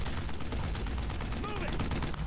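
Dense, continuous gunfire from a World War II battle in the Brothers in Arms video game, with rapid overlapping shots and bursts filling the scene and a voice faintly under the din.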